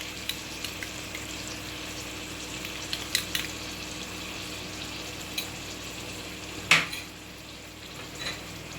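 A paneer chilli mixture with soy sauce, tomato ketchup and red chilli sauce sizzles softly in a pan while being stirred, with scattered scrapes and a sharper clink of the utensil against metal.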